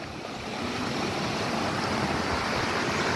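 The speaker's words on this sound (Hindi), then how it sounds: "यहाँ पर छोटा एक झरना वहाँ पास से आ रहा है जिसका साउंड आपको सुनाई दे रहा है" A small waterfall near a flower garden produces a constant broadband rush of falling water, steady and fairly close, with no voices over it.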